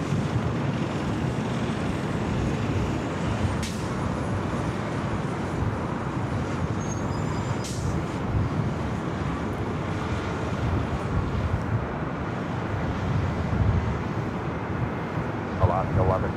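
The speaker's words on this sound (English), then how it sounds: "777-300ER flight heading back to London Heathrow, heading up here to the north side" A Boeing 777-300ER airliner bound for London Heathrow taxis toward the north side of LAX for takeoff, producing a steady, distant broadband jet rumble that holds constant throughout with no clear rise or fall.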